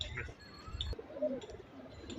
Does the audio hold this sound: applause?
no